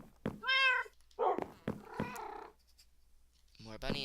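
Several cats meow in short, clear calls, one after another, in a pet shop in a video game, with a softer purring, chirping cat sound between them and a voice speaking briefly.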